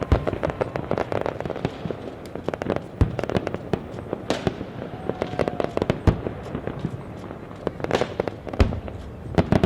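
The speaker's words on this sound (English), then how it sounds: "It celebrated New Year with fireworks over the Acropolis." New Year fireworks burst over the Acropolis in Athens, a continuous crackle of sharp bangs and pops at varying distances, dense and irregular throughout with no talk.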